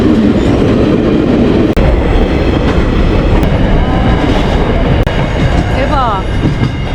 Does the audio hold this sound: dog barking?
no